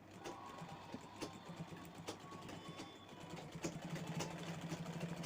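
A sewing machine stitches old cloth with a quick, steady mechanical whirr and light repeated ticks, faint and close, running on without a break.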